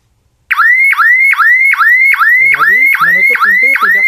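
Emergency exit door alarm sounding after the door is opened, a loud repeating electronic chirp-siren rising in rapid regular cycles about twice per second, with a voice talking underneath in the second half.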